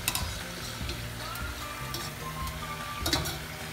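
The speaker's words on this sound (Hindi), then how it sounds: "तो मैं दूसरी कटोरी को भी सेम उसी वे से फ्राई कर रही हूँ।" A katori chaat basket deep-fries in oil, giving a continuous soft sizzle with occasional stirring clinks and scrapes, fairly quiet and close, no voices.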